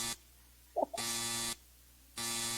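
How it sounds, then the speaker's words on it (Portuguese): An automatic alarm buzzer sounds in steady on-off bursts, two long loud tones separated by silence with a third starting, plus a brief faint knock between them, no speech. "o alarme precisa parar, ele está automático já"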